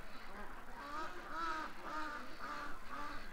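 Ducks at a creek quack in a repeating, rhythmic series of nasal calls, fairly faint and at a moderate distance, with no talking over them.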